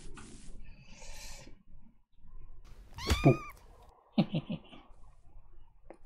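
Cat meowing in the Minetest video game, two distinct meows a second apart at moderate loudness, with soft game ambience before and between.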